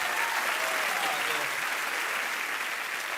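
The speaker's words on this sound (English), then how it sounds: "they'll give you a nice round of applause as well for coming on." Steady applause from a television studio audience, a continuous wash of clapping at even loudness throughout, with no voices standing out.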